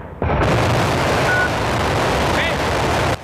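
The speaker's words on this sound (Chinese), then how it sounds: "搭载神舟19号载人太空船的长征2号火箭在酒泉卫星发射中心点火发射" A Long March 2 rocket lifts off carrying the crewed Shenzhou 19 spacecraft at the Jiuquan Satellite Launch Center, a loud, dense roar that cuts in abruptly and holds steady for about three seconds before stopping.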